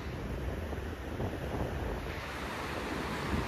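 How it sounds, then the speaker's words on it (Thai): Sea waves washing onto Mae Ramphueng beach in Rayong, Thailand, a continuous broad roar of surf mixed with gusty wind buffeting the microphone, steady and fairly loud with no one speaking. "น้ำทะเลสวยค่ะระยอง บรรยากาศดี"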